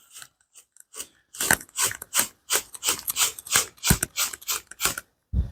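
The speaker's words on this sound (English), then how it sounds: "we're going to take our brush to our slide, making sure that we get into the nooks and crannies of everything that we just sprayed" A cleaning brush scrubbing a solvent-sprayed steel slide of a Walther PDP SF pistol, producing a close, rapid series of rasping strokes that start sparse and then come in a steady back-and-forth rhythm.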